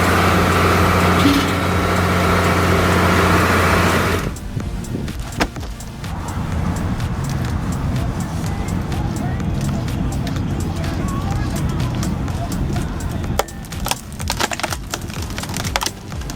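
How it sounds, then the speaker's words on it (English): A homemade firewood splitter built around a truck axle spins a cone into logs, a loud steady engine drone giving way after a few seconds to crackling, splintering wood and clattering under the running machine. "The cone bites into the log like it's nothing, making the whole job look easy."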